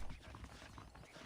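Saddled horses' hooves clip-clop steadily in Red Dead Redemption, a brief, busy patter of footfalls mixed with ambient game sound.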